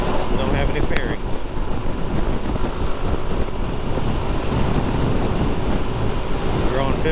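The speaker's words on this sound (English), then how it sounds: "It's hard to control this bike with so much wind, I gotta say." Wind roars steadily past a Suzuki DRZ400SM motorcycle ridden at around 55 mph, a loud, continuous broadband buffeting that fills the whole stretch with faint engine tone beneath, and no one speaking.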